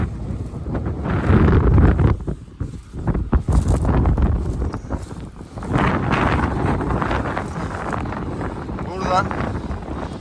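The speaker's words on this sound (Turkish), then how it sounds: "Havada bayağı bir rüzgar var." Wind buffets the microphone in loud, low gusts throughout in an open field where a New Holland 110-90 tractor with an Özdöken stripper header is cutting the crop, with a voice speaking intermittently over the rumble.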